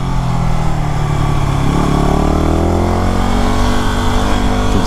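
Yamaha WR250R motorcycle riding along a bumpy, potholed paved mountain road in the Santa Cruz Mountains, its engine droning loudly and close, pitch rising and falling as it accelerates, under steady wind noise.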